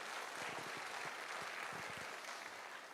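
Dense, continuous applause from a large crowd at a business gathering, steady clapping that fills the room for a few seconds with no talk over it.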